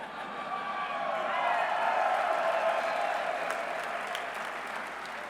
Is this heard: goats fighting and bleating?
no